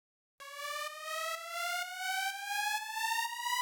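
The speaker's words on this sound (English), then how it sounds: "I've just got a tonal uplifter." A tonal uplifter synth effect made in Serum 2 for a techno track: a bright, harmonically rich tone that starts abruptly and slides slowly and steadily upward in pitch for about three seconds, heard alone.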